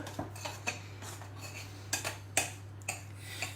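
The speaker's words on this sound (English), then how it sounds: "I am using a knife to mix the milk the cream and the flour together with the butter" A knife taps and clinks against a mixing bowl while milk, cream, flour and butter are worked into biscuit dough; sharp, irregular ticks come in small bunches, close and quiet, with no talking.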